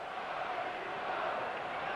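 Capacity ice hockey crowd inside Maple Leaf Gardens in Toronto during a tied NHL game, a steady, dense roar of voices and cheering holding level throughout without distinct calls.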